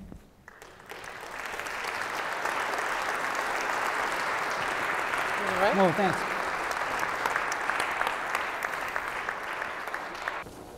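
Audience applause after a history lecture, a steady, dense clapping that fills nearly the whole stretch, with a brief spoken exchange partway through.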